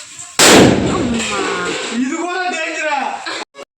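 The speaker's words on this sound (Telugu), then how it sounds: "మా బావ అయితే బాంబులు అయితే పేల్చుతున్నారు వాళ్ళు బాంబులు పేల్చుతున్నారు" A Diwali firecracker bursts at a family home with one sharp, loud bang near the start, then voices talk over a lingering hiss until the end.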